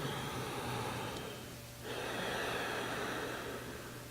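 One long, deep inhale drawn in close to the microphone, a soft airy rush that swells after a short pause, over a steady low background hum.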